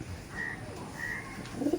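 Male teddy pigeon cooing softly nearby, two short low coos against quiet background noise.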